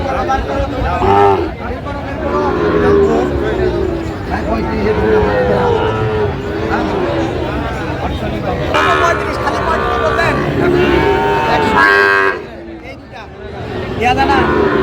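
Sahiwal cattle low and moo amid a busy, noisy crowd of chattering voices at an outdoor cattle market in Narayanganj, the animal calls rising clearly over the babble.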